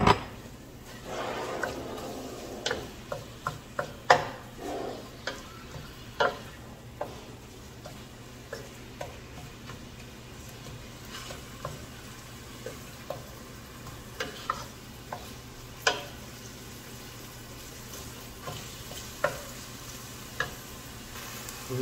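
Minced meat sautés in a pan with a steady low sizzle, broken by repeated sharp clicks and scrapes of a utensil stirring against the pan, close and fairly quiet with no talking over it.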